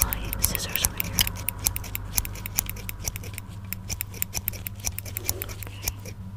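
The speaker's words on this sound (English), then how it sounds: "let me just get in with my scissors over here" Close, crisp snips and clicks of metal scissors in an ASMR surgeon roleplay, steady repeated cuts over a low hum with soft talking.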